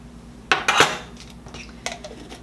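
A large knife scraping and scooping peanut butter from a jar, with a few sharp metallic clinks and scrapes in short bursts, close and fairly clear.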